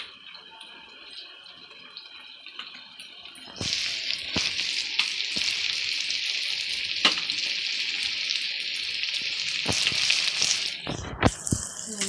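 Tomatoes fry in a pan with a steady, bright sizzle that swells from about four seconds on, broken by a few sharp clinks of stirring near the end.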